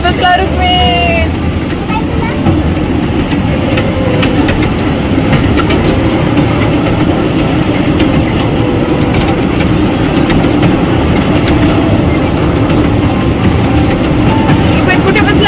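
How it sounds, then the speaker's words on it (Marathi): A fairground toy train ride running fast at a village fair, a loud constant rattling rumble that never lets up, with crowd noise and voices mixed through it. "ही ट्रेन सुद्धा तुम्ही बघू शकता किती फास्ट पळायला लागली आहे"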